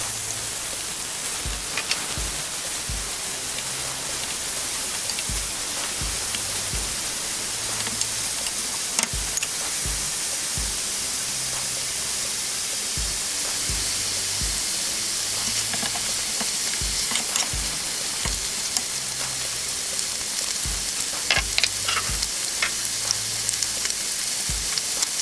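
Minced beef fries in hot oil and is stirred steadily: a constant dense sizzle with repeated scraping stir strokes at a regular rhythm, close and loud, with no talking.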